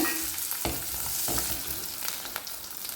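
Garlic and onion fry in a pan with popping mustard seeds, a loud, close, continuous sizzle broken by sharp crackles and a few stirring scrapes, with no voices present.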